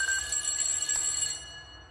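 A telephone rings in the horror video game Ghost Exile, a thin electronic trill that sounds briefly and fades out.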